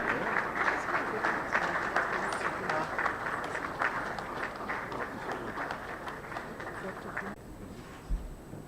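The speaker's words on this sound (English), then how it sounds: "Let's give him a round of applause." Audience applause in a conference lecture hall: dense, steady clapping from a crowd that carries on for about seven seconds, then cuts off fairly abruptly, leaving a quiet room with a faint thump.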